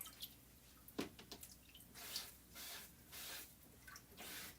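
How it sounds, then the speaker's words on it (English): Regular water sloshes and drips as a chalk stencil is wiped with a board eraser, giving faint, intermittent splashy swishes and small drips over a quiet background. "I'm just using regular water and my board eraser right now."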